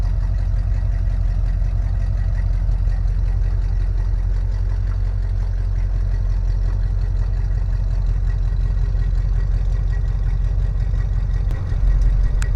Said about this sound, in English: Car has always had a great exhaust note.